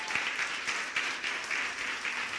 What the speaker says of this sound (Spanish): Dele su mejor ofrenda de palmas a Jesús.